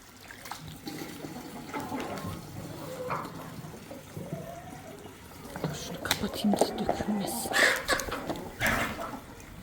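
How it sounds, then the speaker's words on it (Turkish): Water poured to fill the animals' drinking container, splashing and trickling unevenly at close range, with a person speaking over it and clatter from the container. "Şöyle sularını doldurdum"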